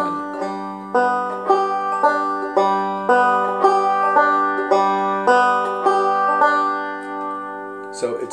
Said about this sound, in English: So when you get that roll going, it should sound like this.